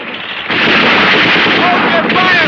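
A film battle scene erupts in loud, dense gunfire after a quieter start, continuing as a sustained roar with no clear gaps between shots.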